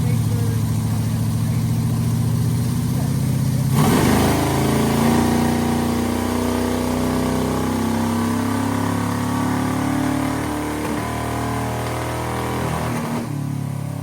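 An old carbureted V8 running on a 100-shot of nitrous, a loud steady rumble that surges hard and holds before cutting back near the end, with people talking nearby.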